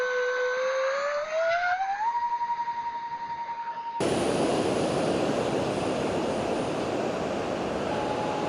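A C-17 Globemaster jet flies over a beach in Australia: a rising whine climbs and then holds, before a sudden loud, broad jet roar takes over and continues strongly close by.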